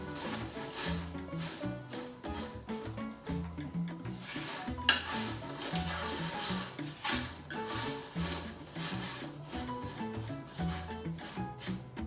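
Hydrangea tea leaves roast in a very hot pan while being stirred often, producing soft, irregular scraping and rustling strokes with a faint sizzle beneath and one sharp clink.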